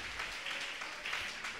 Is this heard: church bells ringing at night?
no